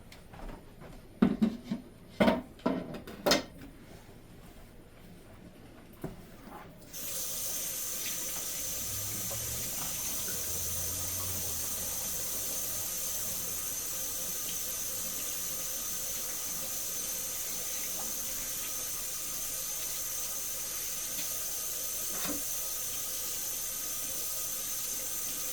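Water runs steadily from a faucet into a kitchen sink during cake decorating cleanup, starting after some clattering handling noises and continuing as a constant close rushing stream.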